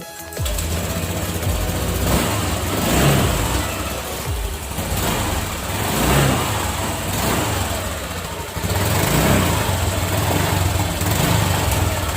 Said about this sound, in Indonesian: Kita nyalakan unitnya ataupun motornya